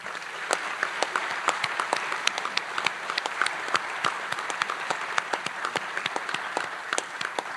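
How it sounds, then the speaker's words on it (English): Audience applause fills a school senior honors assembly, a steady wash of many hands with sharp individual claps standing out near the microphone, continuing evenly with no talk. "Round of applause."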